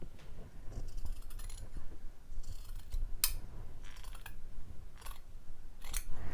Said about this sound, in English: I'm just cutting it up there because I'm going to unpick that part and then I'm going to cut up properly